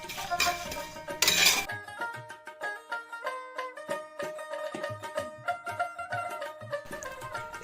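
Dry spices and red chillies being stirred with a spoon in a pan for a Railway mutton curry, with repeated scraping and clinking of metal on the pan at an uneven pace, close and fairly clear, with no talk.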